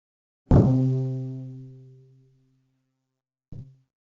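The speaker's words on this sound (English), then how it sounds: "Now here's the reconstructed version of that same bass sound" One low bass note, a neural network's reconstruction of a recorded bass sound, sounds and decays over about two seconds, then a short, softer low tone follows after a pause.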